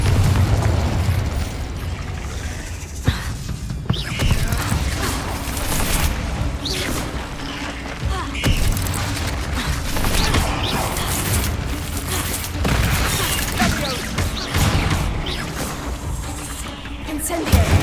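Incendio and Infringo fire spells are cast repeatedly in the video game Hogwarts Legacy, each landing as a loud fiery burst or crackling blast amid constant combat clatter, with voices calling out.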